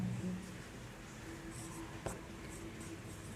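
Chalk or marker strokes scratch across a board during a thermodynamics lecture, faint and intermittent with one sharper tap, under a quiet classroom hum and some talking.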